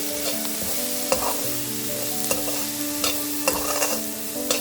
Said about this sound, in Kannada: ಈ ತರಿ ತರಿಯಾಗಿ ರುಬ್ಕೊಂಡಿದ್ದೇನಿದೆ ಅದನ್ನು ಆ್ಯಡ್ ಮಾಡ್ಕೊಳ್ಳೋಣ ಆ್ಯಡ್ ಮಾಡಿಕೊಂಡು ಚೆನ್ನಾಗಿ ಮಿಕ್ಸ್ ಮಾಡ್ಕೊಳ್ಳಿ